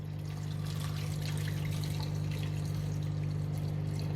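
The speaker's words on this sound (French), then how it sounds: "Et je vais venir mettre à peu près 1 litre d'eau." About a litre of water pours steadily into a pot holding frozen seafood for a pastilla filling, a continuous close rushing flow with a steady low hum beneath it and no speech.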